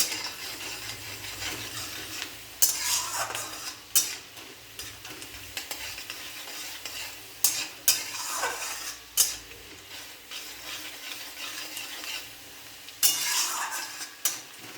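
Chopped onions frying in a pan, a soft steady sizzle broken by repeated clanks and scrapes of a spatula stirring against the metal, close and fairly quiet, no talk.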